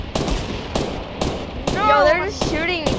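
Sharp, widely spaced gunshots ring out in an online 50 versus 50 video game match, several loud cracks about half a second apart, with a person's voice speaking over the later shots.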